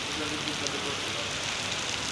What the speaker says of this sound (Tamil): மழை வந்து நல்லா பிடிச்சி வச்சுங்க.